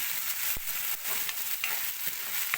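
Tomatoes with salt cooking in a pan, a close, steady sizzle broken by a few soft scrapes and knocks of stirring.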